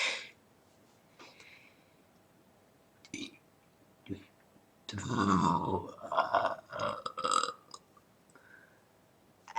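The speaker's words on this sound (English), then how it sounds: "I'm gonna burp with Yoo-hoo." A long, loud, rumbling burp from a girl, after drinking Yoo-hoo, bursts out after some quiet talking and a few clicks, followed by more chatter.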